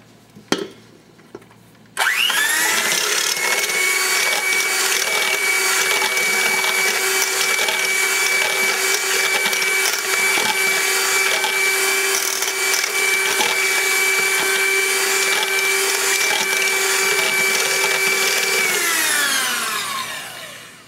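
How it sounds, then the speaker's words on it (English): Waffle batter with melted butter and yeast being mixed by an electric appliance, a loud, steady motorized whir that starts abruptly after a couple of quiet seconds and winds down at the end, with no voices. "So let's go ahead and whisk it."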